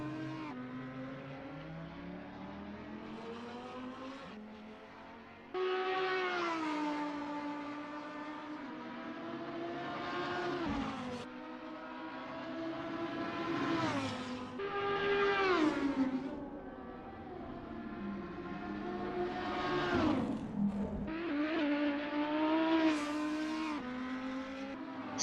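A Lamborghini Huracan GT3 racing at Monza in a racing video game, its engine howling up through the revs and dropping at each gear change, repeated across several shifts, close and continuous with no talk.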